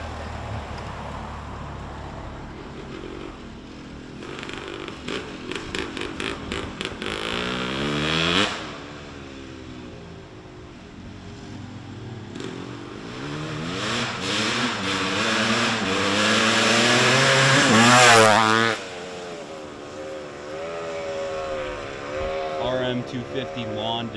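A 1977 Suzuki RM250 two-stroke dirt bike engine revs hard and loud, rising and falling in pitch over a rough idle, with a voice shouting over it.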